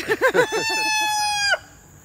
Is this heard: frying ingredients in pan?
no